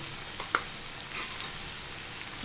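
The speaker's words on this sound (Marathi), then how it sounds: "छान परतून घेऊयाला छान दोन मिनटं परतून घ्यायचं" Green chili and coriander paste sautéing in a pan for green masala poha, a soft steady sizzle with one light utensil tap and no talking.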